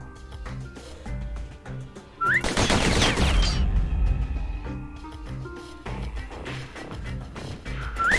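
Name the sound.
pistol gunfire in Bastion video game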